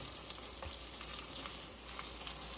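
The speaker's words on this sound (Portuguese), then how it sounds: "Pode até deixar grelhar mais um pouquinho" Fish raised in a water tank sizzles steadily on a grill, a dense continuous crackle with small pops, close and fairly quiet, with no talking.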